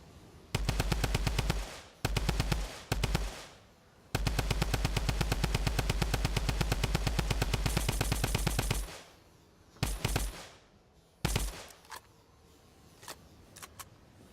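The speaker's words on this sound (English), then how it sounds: "let's move on to the firing noise and just the general feel and opinion of the weapon" Typewriter drum gun from the Fortnite Save the World video game fires in long, loud, rapid automatic bursts, followed by a few shorter trailing bursts and quiet clicks, with no voices.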